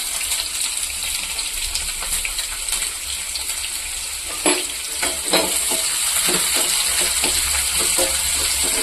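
Cumin and a large onion fry in a little oil for chicken liver fry, a close, steady sizzle with scattered crackles and a few sharp clinks and stirring clatters midway, no speech.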